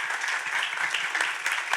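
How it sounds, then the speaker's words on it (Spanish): Audience applause at a talk on the Peruvian political system, a steady dense wash of many hands clapping at moderate distance, continuous for the whole stretch without pauses or voices on top. "Fuerte aplauso para Oscar Wong, gran profesional"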